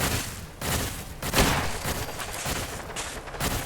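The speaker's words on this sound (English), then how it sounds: "Oh, we got turrets too. There are turrets around as well." Turrets firing in the video game Fallout 4, a continuous fusillade of rapid gunshots with bursts and a few louder cracks, loud and close with no pause.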